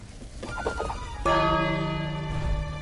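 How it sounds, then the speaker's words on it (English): A bell in the King's Quest video game rings once with a loud, sustained metallic tone that slowly decays, preceded by some faint game sounds. "No, the bell."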